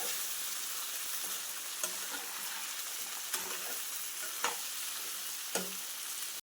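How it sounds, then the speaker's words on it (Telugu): Broad beans fry with onions in a pan, a soft steady sizzle punctuated by several sharp spatula scrapes and clicks as the mixture is stirred. "ఉల్లిపాయలు ఇలా వేగిపోయాక చిక్కుడుకాయలు వేసుకోవాలి."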